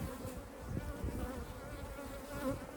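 Bees drone in a top bar hive during an inspection, a close, continuous buzzing hum that wavers gently in loudness throughout.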